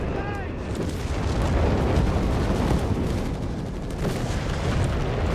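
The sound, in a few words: artillery and howitzer fire in Company of Heroes 3 video game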